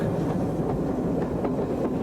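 A Great Western Railway steam train, with 6157 following it out of London Paddington in 1962, gives a steady, loud rolling rumble with faint rhythmic clatter from the wheels and no voices.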